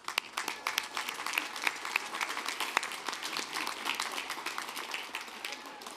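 Sustained applause from a large commencement audience honoring graduates at a 2024 ceremony, dense steady clapping throughout with no breaks.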